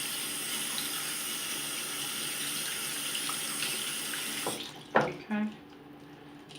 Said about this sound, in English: Turn the water on and you do it.